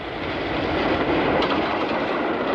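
A steady, loud rumble and roar of an underground train running on rails on London's Victoria line, continuous and unbroken, like riding inside a tunnel.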